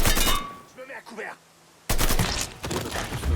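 Loud gunfire bursts in the video game Mafia III, an opening volley, a short lull with talking, then another sustained barrage of shots.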